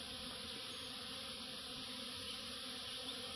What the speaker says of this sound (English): Big giant cloud of bees out here in the rain.